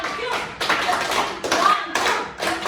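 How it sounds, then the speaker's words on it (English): Children at a school debate clap in short bursts, with the hands starting and stopping in rhythmic groups, near and moderately loud, with a few voices and thuds in between. "So a big round of applause for these little kids."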